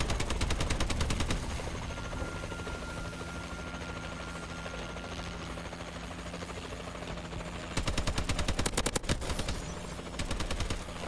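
Warbird killstreak firing in Call of Duty Advanced Warfare, a continuous helicopter-like rotor drone with bursts of rapid machine-gun fire at the start and again near the end.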